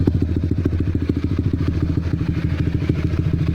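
Honda CB150R fitted with a Pro Liner TR-1 carbon long aftermarket exhaust, ridden at low RPM: a steady, close, deep burbling exhaust with rapid even pulses and a soft thumping character, heard alone throughout.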